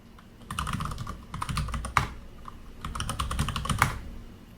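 Someone types a password on a computer keyboard: two quick runs of close, crisp key clicks separated by a short pause, in a quiet room.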